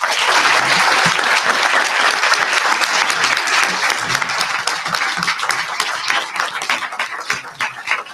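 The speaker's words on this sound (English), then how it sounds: "If you would all just please give another round of applause to our panel." An audience at a university Constitution Day event gives a panel a loud, continuous round of applause, thick and unbroken for several seconds with individual claps standing out as it starts to thin.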